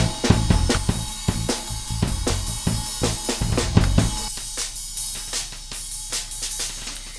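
Beat-driven music runs through an ultrasonic-filtered version of the Airwindows SlewOnly plugin, starting fuller and denser before thinning midway into a bright, hollow texture that keeps sharp percussive hits and a sustained low hum.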